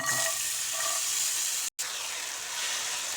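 Tapioca pearls (sabudana) fry in ghee in a pan, giving a steady close sizzle and hiss that holds through with a brief cut partway.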